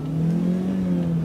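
A car engine drives and revs steadily in a video game, a loud sustained droning hum with slight pitch wavering throughout, no talking.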